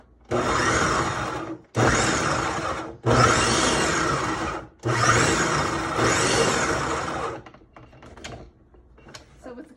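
Garlic cloves and basil leaves are pulsed in a blender for homemade pesto: four short, loud whirring bursts separated by brief pauses, then near-silence with faint handling noises.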